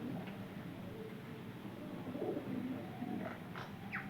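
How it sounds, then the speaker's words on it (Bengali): Pigeons feeding and squabbling, with soft repeated coos and a few brief wing or call bursts over steady background noise. "তাড়াতে তাড়াতে অন্য পাখিগুলো খেয়ে নিচ্ছে।"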